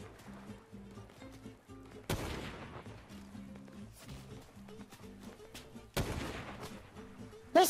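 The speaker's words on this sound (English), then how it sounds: "We're getting shot at!" Gunfire in a video game, two loud broadband blasts standing out above steady in-game music and background sounds, with fainter shots scattered between them.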